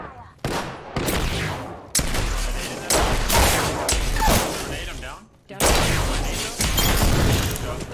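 Apex Legends shotgun blasts boom loudly, several heavy shots spaced about a second apart, each with a long echoing tail, mixed with other gunfire and a player talking over it.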